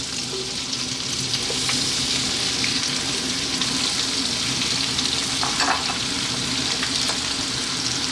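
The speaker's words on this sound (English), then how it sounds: "we're on a high heat. We're just going to throw this around in the pan for about 4 minutes." Potatoes and broccoli fry in a pan over high heat, giving a steady, dense sizzle that holds at a constant level throughout, with faint stirring movement and no voices.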